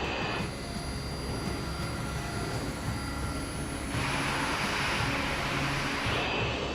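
A West Caribbean Airways jet airliner's engines roar during takeoff, a broad, loud, continuous rush that swells and brightens partway through.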